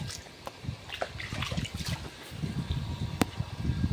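Water trickles and splashes unevenly from the outlet of a running gas-motor pump, a continuous gurgle broken by occasional sharp clicks.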